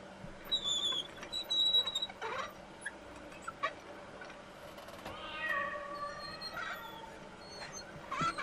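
Cats meow in The Lost Crown video game, several short high calls scattered over a steady ambient background with no talking.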